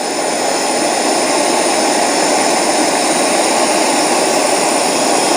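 A burner flame heats steel parts to cherry red for oil hardening, producing a loud, steady roar that stays constant and unbroken from start to finish.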